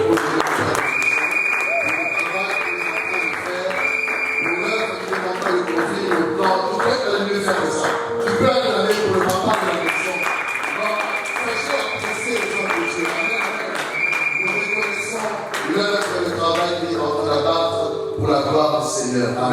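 A church congregation at an afternoon evangelistic service applauds steadily for about twenty seconds, a dense, loud patter of many hands, with voices calling out and sustained organ or keyboard tones sounding beneath the clapping.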